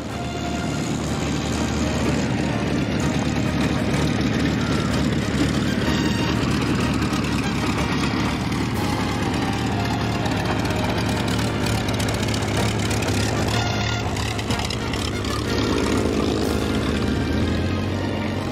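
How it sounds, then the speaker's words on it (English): Two WWII fighters, a Hawker Hurricane and a Mark 16 Supermarine Spitfire flown by Ray Hanna, pass overhead in formation at an airshow, the Spitfire throttled back; a steady, loud drone of piston engines and propellers fills the whole span without letup. "The Hurricane is joined by the Mark 16 Spitfire, piloted by Ray Hanna from England."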